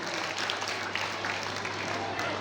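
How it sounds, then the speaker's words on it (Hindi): An audience at a Krishna Janmashtami cultural festival claps in a steady, dense wash of applause, moderately loud, with a voice talking over it. "तो उनके लिए एक बार जोर से तालियां हो जाए।"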